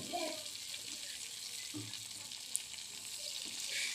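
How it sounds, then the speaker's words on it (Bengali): Coriander leaves and other ingredients for a taki fish bharta fry in a pan, a faint, steady hiss of sizzling oil with a few soft stirring touches and one small tick. "এগুলো আমি পাঁচ থেকে ছয় মিনিট খুব ভালোভাবে ভেজে নেব"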